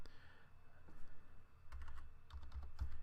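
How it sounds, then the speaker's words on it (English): Typing on a computer keyboard, close and fairly quiet, with irregular bursts of key clicks and a few heavier taps toward the end. "So I'm going to start typing."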